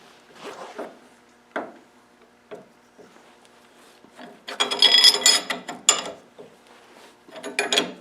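A ratchet tightens a 24mm nut on a flywheel puller, giving sparse clicks and creaks that build into bursts of rapid metallic ratcheting, close and fairly loud, with no talking.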